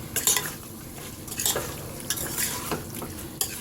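Beef pieces with salt stirred in a pot, a spoon scraping and clinking against the metal in several close, irregular strokes with soft shuffling between them and no talk.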